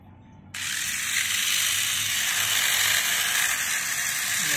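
Tamiya Roborace Devbot 2.0 on an MA chassis, its small electric motor switching on abruptly to a steady, smooth high whine that holds at a constant level, close and fairly loud.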